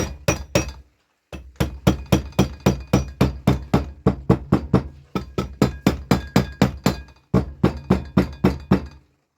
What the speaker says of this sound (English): Have to be careful hammering these things